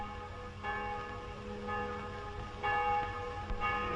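Church bells ring steadily, tolling in a repeated rhythm, moderately distant with sustained resonant tones and no voices.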